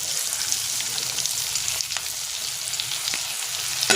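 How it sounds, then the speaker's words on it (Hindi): Chicken shami kebabs fry in oil with a dense, bright crackling sizzle that holds steady and close, with a couple of small pops and taps. "इसी तरह से तमाम शामियों को हम फ्राई कर लेते हैं।"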